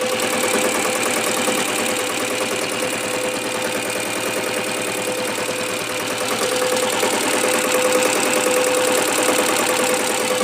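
A diesel Royal Enfield Bullet motorcycle engine, a fully restored Taurus, runs steadily close by, a loud continuous mechanical chug with a constant hum and rhythmic knocking throughout.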